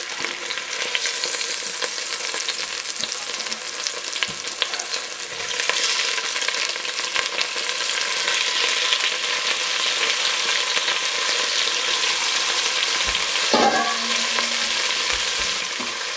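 Bison meat browns in oil in a pan, giving a steady, dense sizzle that holds evenly throughout, with a brief clink or scrape near the end.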